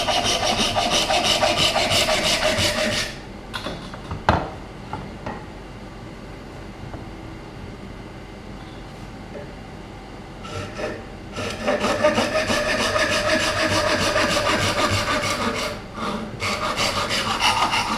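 A hand saw cutting bamboo clamped in a vise for a bicycle frame, rasping in steady back-and-forth strokes up close, with a quieter pause partway through before the sawing resumes loudly.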